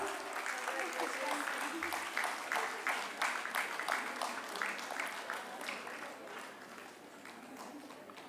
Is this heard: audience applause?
yes